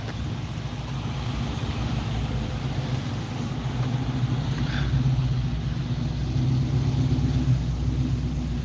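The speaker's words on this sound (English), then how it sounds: "Oh yeah, so we got a couple of them coming in here. So it looks like a Thunderbird and a Mustang." A Ford Thunderbird and a Mustang rolling in to a hot rod car show, heard as a steady low engine rumble with wind buffeting the microphone, no talking.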